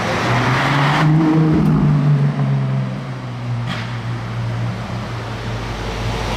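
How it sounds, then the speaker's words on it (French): A Ferrari LaFerrari engine rumbles and drones past at moderate distance in Monaco, its tone shifting as it goes, with steady background noise and no talking. "Je crois que là la Ferrari revient. Je l'entends arriver."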